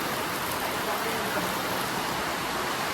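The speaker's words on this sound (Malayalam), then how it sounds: "സ്റ്റേഷന്റെ അകത്ത് വെള്ളച്ചാട്ടം" Monsoon rainwater pours down inside a Pondicherry railway station like a waterfall, a dense, steady, loud rushing roar that fills the whole moment without a break.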